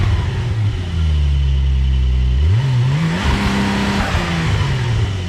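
A Hyundai Genesis fitted with a new aftermarket exhaust revs up loudly at a car show, a deep rumble climbing in pitch midway and holding, close by with no talking.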